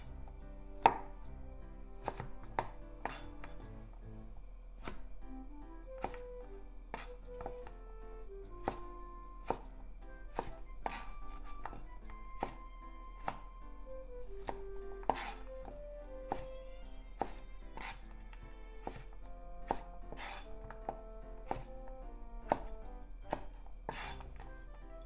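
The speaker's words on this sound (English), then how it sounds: "Then into thin diagonal slices." A knife slices green beans into thin diagonal pieces for onion and green bean kakiage tempura, giving a steady series of crisp, close chopping taps on a board over soft background music.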